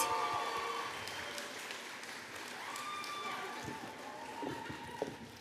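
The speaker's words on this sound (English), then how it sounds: "One more round of applause." An audience at an anime convention opening ceremony applauds in a steady wash of clapping that stays moderately loud throughout, fading slightly toward the end.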